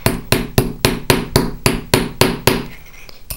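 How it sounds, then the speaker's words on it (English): Metal rivet on a textured-disc bracelet struck with a hammer, about ten sharp, evenly spaced taps in a steady rhythm, close and loud, then a brief quiet ring-out. "now I'm gonna go ahead and rivet the top side"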